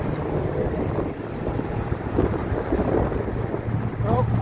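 Wind buffets the microphone as a wheelchair is driven along a city street, giving a steady, loud rushing rumble throughout with slight gusting swells.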